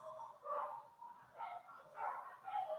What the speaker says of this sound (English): We got a dog fight going on outside.